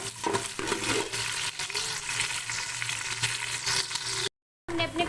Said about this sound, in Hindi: अब उसमें मैं ये 2 प्याज ऐड करने लगी हूँ जो मैंने काट कर रखे हुए थे।